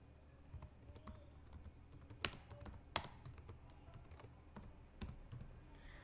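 Quiet keystrokes tap on a computer keyboard while text goes into an Excel sheet, an irregular run of soft clicks with a few sharper, louder presses, no talk.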